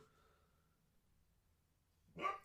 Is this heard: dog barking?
yes